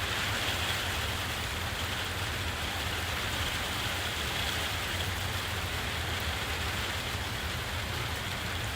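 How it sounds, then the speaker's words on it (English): Steady rain falling, a dense even hiss of drops with a low rumbling undertone that continues unbroken throughout, with no voices. "That's weather, folks. That's weather. That's rain. It's rain."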